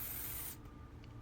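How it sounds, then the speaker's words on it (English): Insecticide sprays from a can in one steady hissing burst, close and loud, aimed at roaches and bed bugs along a wire in an infested house, then cuts off into quiet room noise. "I'm gonna spray this. Watch them all scatter."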